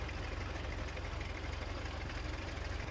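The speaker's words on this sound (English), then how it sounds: "Good exhaust, kind of putters along." A Farm Simulator 19 vehicle engine putters at idle with a low, rhythmic exhaust thrum, steady and fairly loud throughout, with no talk.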